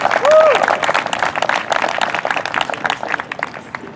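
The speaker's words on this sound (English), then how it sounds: "one last round of applause for our class of 2000" A crowd applauds the baseball senior day class at South River, with steady dense clapping from an outdoor audience. A brief voice or whistle rises near the start, then the clapping thins gradually toward the end.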